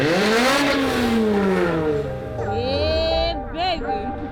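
A race car at Roebling Road Raceway revs loudly nearby, its engine pitch sweeping up and down through several throttle changes with a whining note, while people talk over it.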